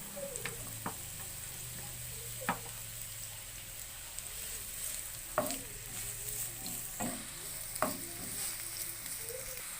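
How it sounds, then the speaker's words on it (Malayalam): Onions fry in hot oil in a pan for a soya bean masala, giving a steady close sizzle broken by several sharp scraping stirs, with a faint low hum underneath. "എണ്ണ ചൂടായി വന്നിട്ടുണ്ട്. അതിലേക്ക് നമുക്ക് സവോള ആഡ് ചെയ്ത് കൊടുക്കാം"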